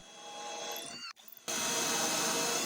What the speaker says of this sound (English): I'm using a countersink drill bit to add some extra support to these legs